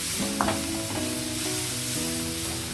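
Chopped banana flower frying in a pan while it is stirred, with a steady soft sizzle and occasional scraping stirs, close and moderately quiet.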